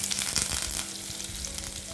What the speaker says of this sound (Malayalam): കടുക് വറുത്തിടുക മുളക് കരുവേപ്പിൻ്റെ ഇല കുറച്ച് കടലപ്പരിപ്പാണ് കേട്ടോ അതും കൂടി നല്ലതുപോലെ വറുത്തെടുക്കുക